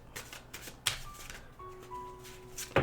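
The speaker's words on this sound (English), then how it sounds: "So I'm going to shuffle your cards for you." A deck of tarot cards is riffled and shuffled nearby in quick papery bursts, with a faint tonal hum in the background.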